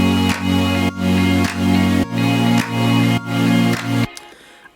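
A plucky guitar loop plays over big, sustained synth chords, with a rhythmic pulse that swells and cuts roughly every second. It is loud and close, with no voices, and it drops out abruptly near the end.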